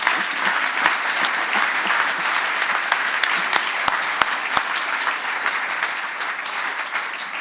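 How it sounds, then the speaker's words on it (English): Audience applause at a company's grand opening of a new building in Hattersheim, a full, steady round of clapping close by with a few sharp individual claps standing out, holding at even loudness throughout. "I think it's a good opportunity for one applause."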